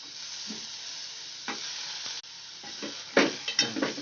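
Black pea usal sautéing in a pan, with a soft steady sizzle and a few scraping stirs of a spoon against the metal, heavier stirring near the end; nobody speaks.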